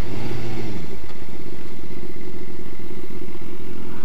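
Sport motorcycle engine, an R1M, droning steadily while being ridden, with a dense low rumble and some clattering wind-like noise, loud and close throughout.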